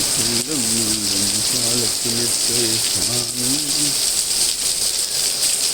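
Heavy rain pouring steadily as a dense, loud wash of noise throughout, while someone talks over the first part.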